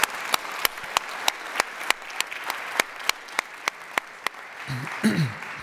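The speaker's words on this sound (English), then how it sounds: "let's give them a round of applause" Sparse, slow applause at a high-level conference debate, a few individual claps ringing out in a steady rhythm, thin and somewhat distant, with a brief murmur of voices near the end.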